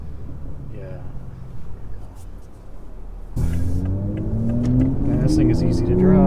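A modified 527 hp 2020 Toyota Supra in manual mode accelerating, its engine note rising steadily in pitch and loudness from a low rumble, with a person talking over it in the cabin.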